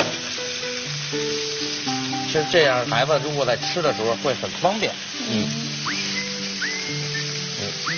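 Chicken wings fry and sizzle steadily in a hot pan, a close continuous crackle and hiss while someone talks over it.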